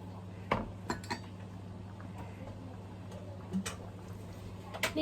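Uncooked sticky rice tipped into a metal pot while making sticky rice boiled with red beans, giving faint scattered clinks and taps against the pot over a quiet room hum.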